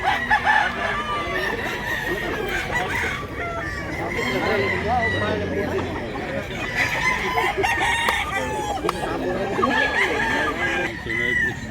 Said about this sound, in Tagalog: Sunoy nga manok.